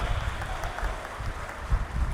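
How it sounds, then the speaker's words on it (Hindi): A crowd at a public event in Rajasthan, audience clapping for Dularam ji, a faint, diffuse spread of applause heard at a distance, continuous throughout. "तो दूल्हा राम जी को ताली बजा करके उनको भी याद करना चाहिए"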